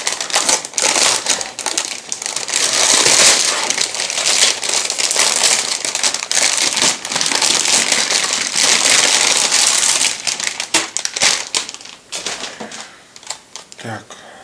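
A plastic bag holding a model kit of the Pz.Kpfw.VI Ausf.B King Tiger tank crinkles and rustles loudly and close while being handled, with crisp crackling bursts that continue almost throughout and ease off toward the end.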